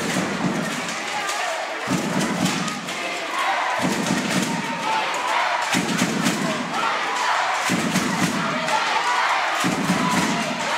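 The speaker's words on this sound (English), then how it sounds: "Now we got the beat of the drum." Deep drum beats pound at a steady pace, about one every two seconds, over a loud, continuous stadium crowd roar with cheering at a football event.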